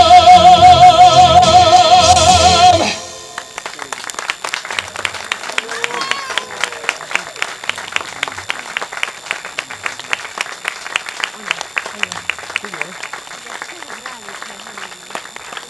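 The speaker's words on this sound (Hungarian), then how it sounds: "Ne tapsoljanak túl sokat" Audience applause from an equestrian-day crowd: a dense roar of clapping at first, dropping after a few seconds to a thinner patter of scattered claps that keeps going, with music playing loudly during the opening.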